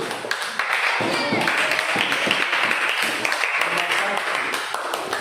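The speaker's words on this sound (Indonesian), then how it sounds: "Tepuk tangan untuk temanmu dulu." Classmates clap for a fellow student in a classroom, a dense, steady patter of many hands lasting throughout, with children's voices and chatter mixed in.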